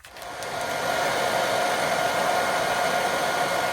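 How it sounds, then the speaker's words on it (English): Hair dryer blowing steadily close by to soften wallpaper for stripping aboard a narrowboat, switching on and then holding a loud, even whooshing whine throughout. "soften it up with the air dryer all the way through, and it will come off in one"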